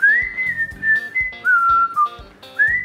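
A person whistles a melody alone and up close, clear, bright notes gliding and repeating in short phrases with brief pauses between them.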